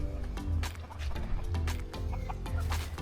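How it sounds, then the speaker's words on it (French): Several chickens, including a rooster, fight in Brazil, clucking and squawking in agitated bursts, close and loud, with flurries of scuffling between the calls. "il y a une baston de poule, frère"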